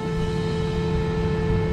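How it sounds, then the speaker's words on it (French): A car horn held as one steady, unbroken tone, sounding continuously and fairly loud from a moving car on a road, with constant pitch and no break. "Le ton du klaxon est constant"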